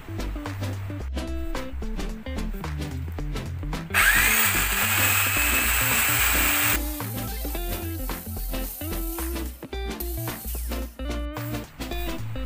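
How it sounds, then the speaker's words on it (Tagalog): A power drill bores pocket holes into wood for a recycled-timber floating shelf, a loud whirring burst standing out over continuous background music, with shorter drill sounds mixed through. "gagawa ako ng pocket hole doon sa mismong kahoy na hindi sagad"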